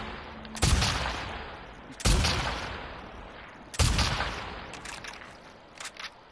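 Gunfire from The Last of Us Part II video game: three sharp, loud shots spaced about a second and a half apart, each trailing off in a reverberant tail, followed by a couple of faint clicks.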